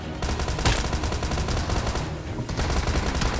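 Rapid gunfire from a battle royale video game, with bursts of automatic shots crackling loudly and continuously throughout, close and dense, with no talking.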